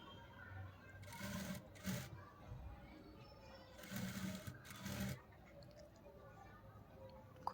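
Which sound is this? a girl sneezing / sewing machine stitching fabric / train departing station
sewing machine stitching fabric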